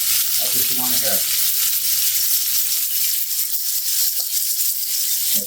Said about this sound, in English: So we're going to let it sear right here for a couple minutes.